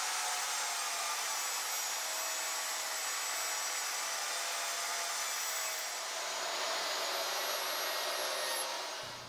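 A power saw cuts through plywood in one steady, continuous hiss-like whine that runs loud and close for the full stretch, easing off only at the very end, with no talking.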